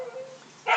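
A dog lets out one short bark at the very end, after a steady low hum with no speech.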